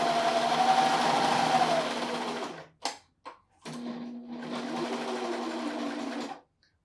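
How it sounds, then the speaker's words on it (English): A serger sewing machine with its knife turned off, stitching along a fabric edge on a cardigan: a steady close whirring hum that stops, gives two short bursts, then runs steadily again before halting. "For this step, I've turned off the knife on the serger, and I'm just going to stitch right along the edge."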